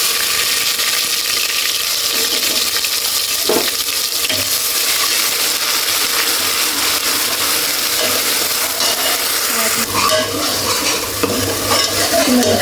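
Tempering spices (cumin) frying in a pan for matar paneer, a steady loud sizzle with stirring scrapes throughout, no voices.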